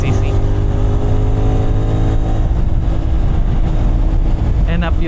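A 450NK motorcycle engine hums steadily while the bike is ridden on the road, loud and close, with wind rush throughout and a rider speaking over it.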